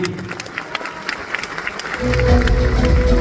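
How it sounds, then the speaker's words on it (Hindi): Applause from a crowd, scattered light clapping at first that swells into a loud, dense round in the second half. "एक जोरदार ताली"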